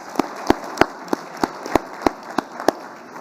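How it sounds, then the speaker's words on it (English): Audience applause at a business fireside chat on alternative investments, heard as a steady, evenly spaced series of sharp claps, about three per second, fairly close and moderately loud, with no talking. "round of applause."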